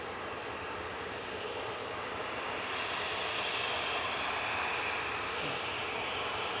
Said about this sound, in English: Flight 2199 operated by GEZWB, an A320 Classic, heading back over to Berlin's Brandenburg Airport